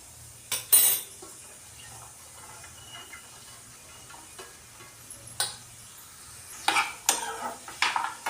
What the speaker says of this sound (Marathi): आपण अशी कापलेली गोल गोल भेंडी आहेत ना ती परतून घेऊ थोडीशी